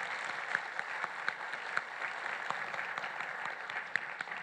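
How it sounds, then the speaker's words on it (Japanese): A conference audience claps steadily as a company president is welcomed onstage for an award interview, a moderate wash of many hands with sharper individual claps popping out, fairly distant and without talk. "皆さん拍手をお迎えください。"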